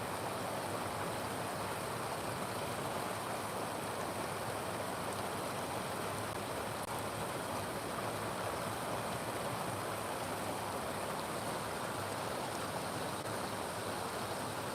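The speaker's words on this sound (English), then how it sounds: "We'll take more of the waterfall here." A Southern California waterfall pours in a constant, dense roar of rushing water, loud and close, holding steady without pause throughout.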